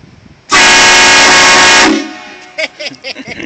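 A loud, blaring multi-tone train horn fitted on a Dodge SRT-4 car blasts once for over a second, then cuts off, followed by scattered short noises and faint voices.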